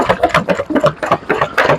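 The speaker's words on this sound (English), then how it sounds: "Homemade shake machine." A homemade paint shaker machine rattles steadily as it mixes a can of 4-to-1 automotive primer in a barn, giving a rapid, pulsing mechanical chatter that sounds close and loud, with no talking.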